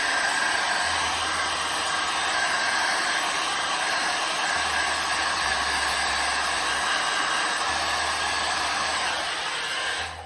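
A heat gun warms vinyl wrap on a large BMW E46 blinker light, producing a steady, loud rushing blower hiss with a faint low hum that runs continuously before fading slightly at the very end.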